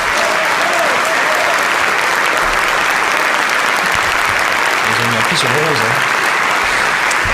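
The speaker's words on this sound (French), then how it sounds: "voilà, beaucoup d'applaudissements." Sustained applause from an audience after a minister's New Year speech on the French Tech startup scene, a dense, loud wash of clapping filling the whole stretch, with a few spoken words over it.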